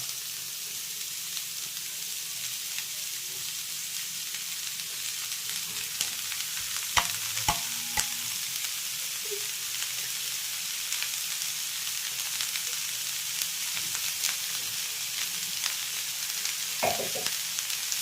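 Spring onion stir fry with coconut paste cooking in a pan, giving a steady, gentle sizzle that runs throughout, with a few faint clinks of a utensil.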